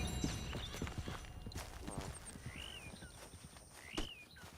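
Horse hooves clip-clop at a walking pace in Red Dead Redemption 2, with a short whinny near the end and bird-like chirps over a busy outdoor ambience.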